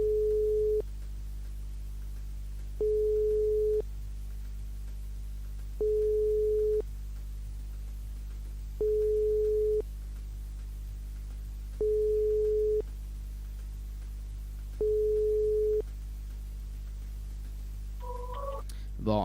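A telephone call placed from a live radio studio rings unanswered, six evenly spaced ringback tones about three seconds apart over a steady low hum, close and clear, ending with a short rising tone burst.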